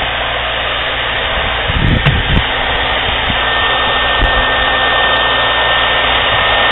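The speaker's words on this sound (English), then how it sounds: "So we hooked one to one hair dryer" A hair dryer rigged to inflate a hot air balloon runs steadily at close range, a loud, even whooshing roar that holds without pause throughout.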